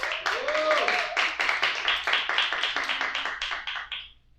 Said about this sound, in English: A round of applause for Yan Ying, please.